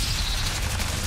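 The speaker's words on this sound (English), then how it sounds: "Oh, flashbang!" Flashbang grenade going off in a shooter video game, a brief loud broadband blast with hissing noise filling the whole moment.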